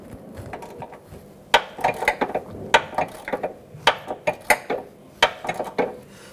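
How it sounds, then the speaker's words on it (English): A ratchet with a short extension and shallow socket works loose a rust-soaked sway bar bushing bolt on a 2007-2017 Jeep Patriot, giving close, sharp clicking bursts in irregular runs with brief pauses between. "We're going to use our short extension, our shallow socket, and our ratchet"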